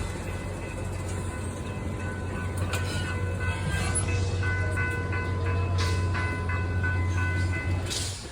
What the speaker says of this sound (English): Look at that steamer, man. That is wild. I'd like to get on this train.